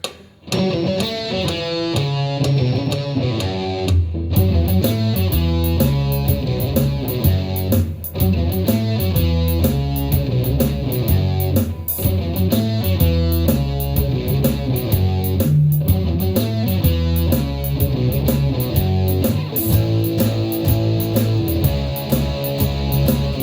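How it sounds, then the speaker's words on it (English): A distorted electric guitar plays a minor pentatonic riff over a full backing track with steady drums and bass, loud and continuous, with no talking. "This is a really cool minor pentatonic riff which is going to sound like this"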